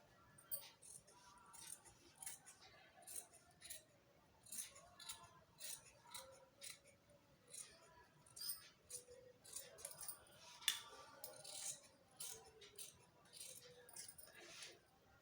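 Scissors snipping away excess fabric while a baby frock is made, a series of quiet, crisp metallic snips and clinks in irregular bursts, with someone talking softly in between.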